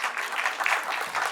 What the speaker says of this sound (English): you can hoot, you can clap